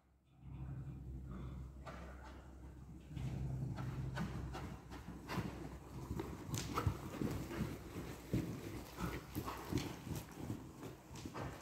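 Horse hooves clip-clopping steadily on an arena as a riding lesson moves into a rising trot, the hoofbeats continuous and fairly close, with the rhythm quickening after the first few seconds.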